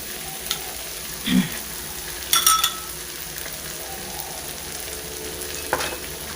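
Curry paste stir-fried with oyster sauce and fish sauce for a three-flavor fried fish dish makes a soft, steady sizzle, broken by a few sharp clinks and scrapes of a utensil against the pan.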